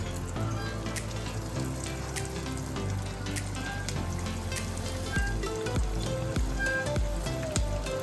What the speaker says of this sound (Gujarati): આપણે ક્રિસ્પી બ્રાઉન રંગની થાય ત્યાં સુધી આપણે શેકીશું